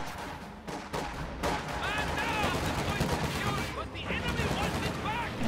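Gunfire crackles through a video game battle, with dense overlapping rifle and machine-gun bursts and distant explosions, continuous under a commentator's talk.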